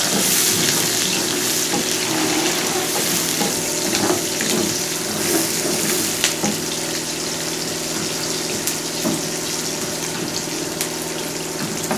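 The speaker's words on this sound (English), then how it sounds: "So once you are done frying our onions" Steady, loud sizzling of onions frying in a hot pan, a continuous crackling hiss with small pops throughout and no talking.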